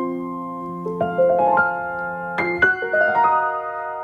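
Piano practice of a Rachmaninoff piece, clear solo notes and chords played in separate groups with pauses before each, fairly close and moderately loud.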